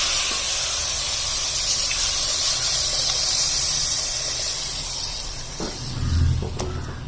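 Second coconut milk being poured into a hot pan of mango curry made with country mangoes sets off a loud, steady steam-like hiss that holds for several seconds, then a brief burst of bubbling and clatter near the end.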